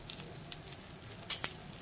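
Dosa batter sizzling in oil on a hot pan, a soft crackling patter with a few sharper pops near the end, quiet and close.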